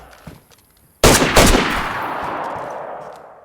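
Gunfire from a PvP firefight in the survival game DayZ: one loud, close burst of rapid shots opens the clip, then a second burst follows as the sound rings out and decays.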